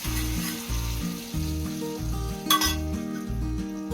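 Roasted ingredients sizzle as they go into red aval payasam, with a busy frying hiss over repeated low rhythmic thumps of stirring and a single bright clink of utensil on pan midway.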